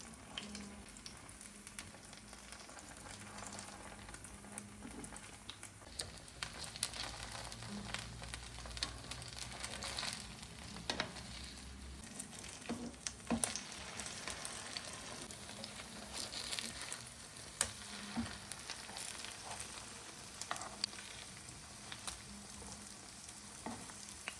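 Cottage cheese pancakes fry gently in a pan over low heat, making a soft, continuous sizzle with scattered crackles and pops throughout. No one speaks.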